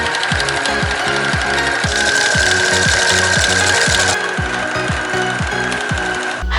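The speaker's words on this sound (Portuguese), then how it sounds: "E aí a gente vai passar uma costura agora fixando essa parte aqui na bolsa" A sewing machine stitches around a bag with a fast, even mechanical chatter that runs loud and close without a break, then stops just before the end.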